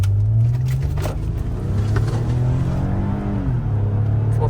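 A 2013 Lexus RX350 accelerating at full throttle, its engine note rising in a loud, close, continuous drone as the revs climb, with a brief dip around a gear change.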